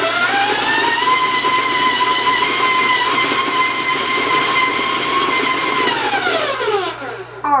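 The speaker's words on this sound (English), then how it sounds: "I'm also going to give you a heads up every time that I turn on the mixer because it can be loud on your end" An electric kitchen mixer whirring while beating cookie dough, a loud steady whine with sustained tones held for several seconds, then winding down as it is switched off near the end.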